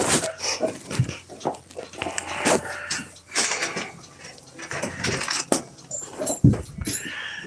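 A food-aggressive dog whimpers and whines in short bursts, close by, amid clattering dishes and cutlery.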